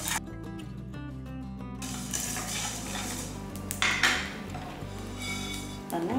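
A metal spoon stirs spices roasting in a hot pan, with repeated scraping and clinking against the pan over a faint background crackle.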